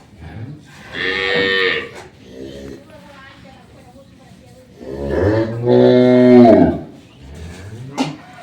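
A dairy cow on a farm gives two loud, drawn-out moos close by, the second deeper and longer, with quieter breathing and rustling between them.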